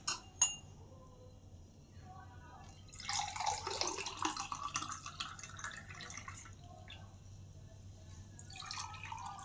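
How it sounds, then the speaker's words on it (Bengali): Soaked fennel and rock-sugar sherbet strained into a glass: faint, close drips and trickles with a few light clinks, mostly alone in a quiet room. "তো চলুন শরবতটা ছেঁকে ফেলি ঝটপট।"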